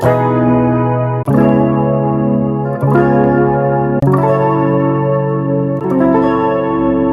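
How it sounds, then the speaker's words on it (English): Sustained electric guitar chords ring out with a shimmering chorus effect and lush reverb, changing chord every second or so. "We added some chorus and some reverb."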